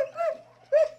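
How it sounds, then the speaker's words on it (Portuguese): At an animal shelter, a dog gives two short whimpering yelps close by with a pause between them, over a low steady hum. "aqui ficam os cães, alguns cães"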